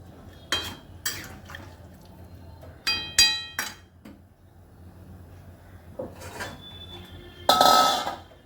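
A lid clinks down over a cooking pot of potato-cauliflower curry among scattered sharp metallic and glassy clinks of kitchenware, close and fairly quiet, with a longer scraping clatter near the end.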